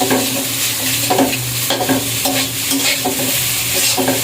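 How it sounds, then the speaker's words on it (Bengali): Noodles frying and being stirred in a pan, with a steady close sizzle broken by repeated scraping strokes of the spatula throughout, with no voices. "জাস্ট একটু ভালো করে ভেজে নিচ্ছিলাম"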